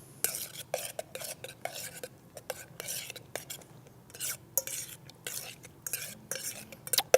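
Olive oil, fresh garlic, salt and pepper mixed in a bowl with a utensil, soft irregular scraping and clinking strokes, fairly quiet and close, with no speech.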